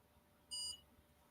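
A single short, high electronic beep sounds once, clear and close, against a quiet background.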